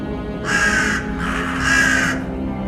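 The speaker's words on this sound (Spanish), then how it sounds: "Un cuervo se posó sobre su pecho aún tibio y cantó con voz humana" A crow gives two harsh, drawn-out caws, loud and close, with a short gap between them and no other sound around them.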